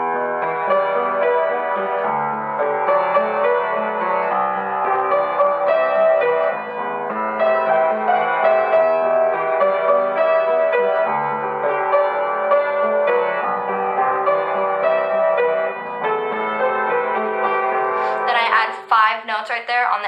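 A piano plays a song in sustained chords and melody, loud and continuous for about twenty seconds, with a brief flurry of higher notes at the end.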